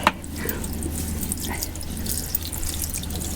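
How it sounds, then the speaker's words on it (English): Tap water runs steadily as a head is held under it to wet the hair, a constant close splashing rush with a sharper drip or splash near the start. "I'm just going to literally stick my head under the tap for this one"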